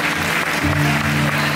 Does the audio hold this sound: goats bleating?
no